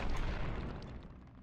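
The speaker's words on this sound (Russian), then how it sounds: "Да, это жесткая бомба, 15 пороха." A powerful bomb made with 15 gunpowder detonates in the video game Grim Soul: Dark Fantasy Survival, a loud, rumbling burst that fills the moment and slowly decays with no speech over it.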